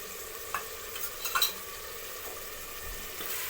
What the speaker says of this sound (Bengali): এবার একটু ওই বাটিটা মশলা ধোয়া জল দিলাম।